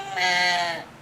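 A sixteen-month-old child imitates a cow's moo with a single drawn-out, bleating vocal tone lasting under a second, close and fairly loud in a quiet room.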